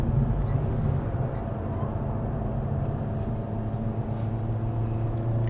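A 2023 Toyota Vios engine held at full throttle in power mode climbing a hill road, a steady loud droning hum with road and cabin noise, constant throughout.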